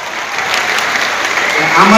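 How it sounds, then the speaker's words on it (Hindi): Loud, sustained applause from an audience at a school award ceremony, a dense, steady clapping that swells slightly toward the end. "गोटे जोरदार ताली हो शंकर भाई"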